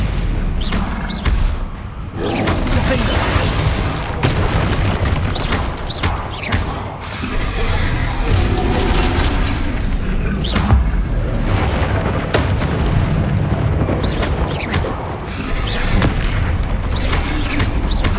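Spell combat in the video game Hogwarts Legacy, with repeated booming thuds and crashing impacts from cast spells such as Stupefy, loud and dense over a continuous rumbling game soundtrack.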